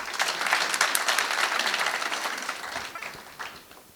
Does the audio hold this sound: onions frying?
no